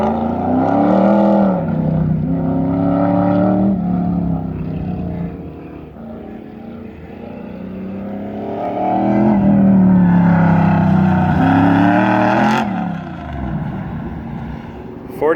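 A Classic Muscle Pro drag race car at an NMCA event makes a loud, continuous engine roar that rises and falls in pitch through the run, with a sharp burst near the end, heard under commentary.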